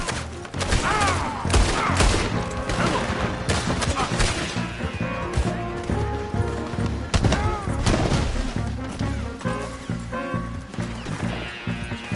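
Gunfire in Red Dead Redemption 2 during an escape on horseback, with loud, rapid overlapping shots and impacts from several guns under a tense musical score, fairly close and continuous.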